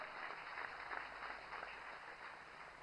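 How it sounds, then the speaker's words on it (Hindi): Faint, steady applause from an audience at a regional industry conclave in Gwalior, a continuous distant patter of many hands clapping with no distinct individual claps. "तालियों की गड़गड़ाहट से स्वागत किया जाए"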